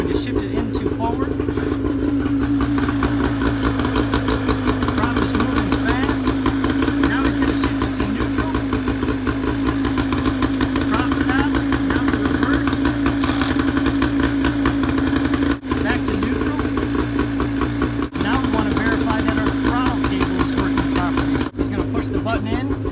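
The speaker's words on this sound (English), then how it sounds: "the engine has been running for about 8 minutes now" A boat's inboard engine idles steadily after de-winterizing, a constant low rumble running close and loud throughout, with faint clicks and brief dips near the end; talk may be mixed in underneath.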